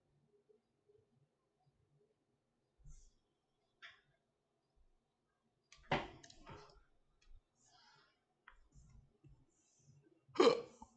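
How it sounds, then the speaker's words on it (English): A person hiccupping during a quiet art stream, a few sharp, isolated gulping bursts separated by near silence, with faint clicks in between. "Oh, I got the hiccups now"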